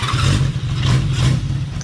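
A 1978 Honda CB550 motorcycle engine that sat for two years runs up close, a loud low throbbing rumble with rhythmic pulses throughout the short stretch.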